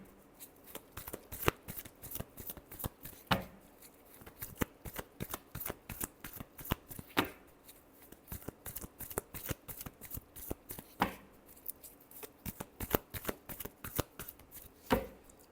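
Tarot cards being shuffled by hand at close range, repeated quick riffling flutters and soft taps in an uneven rhythm, fairly quiet and continuous with no talking.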